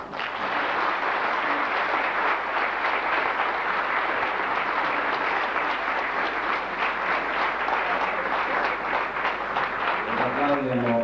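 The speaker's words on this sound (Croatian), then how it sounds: "molim vas da još jednim aplauzom ispratimo naše voditelje" An audience claps at a 90th anniversary celebration of the folk culture society KUD Preporod, producing dense, sustained applause that fills the room evenly for the full stretch and thins slightly at the end.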